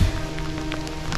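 Heavy rain falling outdoors in a wild area, a steady dense patter on surfaces close by, fairly loud and continuous with no talking.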